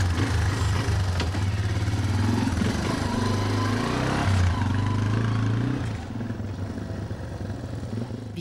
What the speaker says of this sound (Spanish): la moto